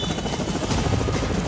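A Russian Kamov military helicopter flies with a loud, steady rotor roar and a fast pulsing beat that runs throughout, with no voices.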